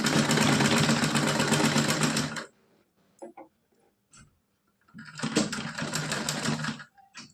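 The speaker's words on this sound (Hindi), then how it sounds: "हमको यहाँ पे सीधी सिलाई लगानी है।" A sewing machine runs a straight stitch on a small doll's dhoti in two loud, rapid bursts separated by a pause with a few handling clicks.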